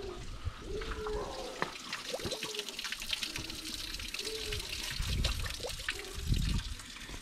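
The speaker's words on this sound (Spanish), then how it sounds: "Mirad, hay una fuente aquí de agua." Fresh water trickles and splashes from a stone village fountain, a continuous liquid burble with brief tonal chirps and a few louder splashy surges.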